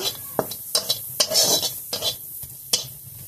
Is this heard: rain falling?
no